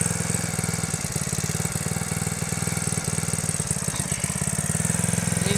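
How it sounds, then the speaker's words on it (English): A small engine on a cooler scooter idles close up, a steady rapid putter with a loud, even pulse throughout and no voices over it. "This is a cute little engine."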